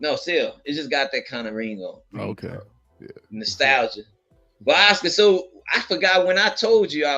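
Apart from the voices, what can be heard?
No everyday noises stand out.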